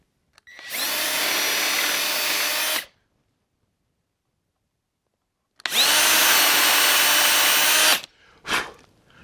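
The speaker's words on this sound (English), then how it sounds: "the reason why we put these pilot holes is just for the Forstner bit that we're going to be using" Power drill boring into wood with a Forstner bit during a picnic table build: two steady, loud whirring runs separated by a silent pause, ending with a brief short burst.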